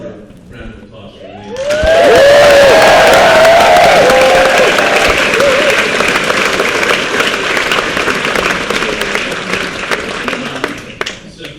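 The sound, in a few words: audience applause and cheering at a comedy show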